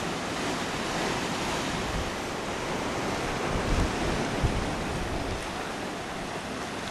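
Ocean surf at a small beach inlet, a steady broad wash of breaking waves with some wind rumble, continuous and fairly loud with no voices.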